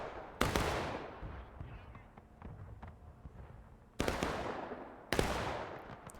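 Musket volleys crack out in a large multiplayer Civil War battle game on the Reno's Fall map, three sharp loud reports standing out over a scattered rattle of more distant shots.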